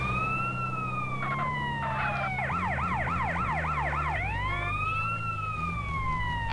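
A GTA San Andreas ambulance siren wails steadily and loudly, switching from a long rising-and-falling wail to a rapid yelp pattern and then back, with a low engine rumble underneath and no talking.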